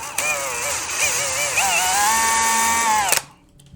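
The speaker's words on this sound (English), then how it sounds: "grab your drill, and then we are just going to drill this hole out until the template bottoms" A power drill bores a hole through a template on a Mazda RX-8 MAF sensor, a loud high-pitched whine rising and wavering for about three seconds before cutting off abruptly.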